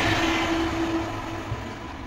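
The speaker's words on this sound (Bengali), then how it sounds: "আর এখানে ট্রেন চলে গেল" A train rumbles past near a home kitchen, a steady low rolling drone with a sustained tonal hum, continuous throughout with no speech.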